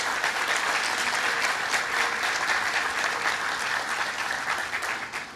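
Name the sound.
audience applause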